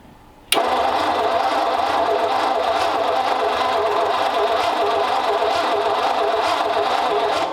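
A replacement engine in a 1934 Ford Coupe cranks briefly and fires up, then settles into a loud, steady rumbling run close by.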